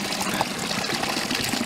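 Water drained from a water heater flush gushes into a container, a close, dense splashing flow that fills quickly and holds steady, with no speech.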